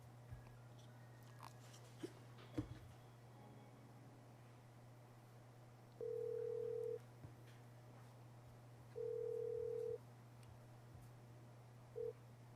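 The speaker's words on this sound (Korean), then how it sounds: "전화 연결해서 인터뷰를 해보도록 하겠습니다" A telephone call is being connected, and faint line noise and a low hum give way to three ringing tones. The first two last about a second each and the third is cut short.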